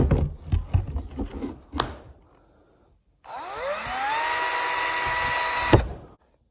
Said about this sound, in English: all I got to do is drill a few holes in this thing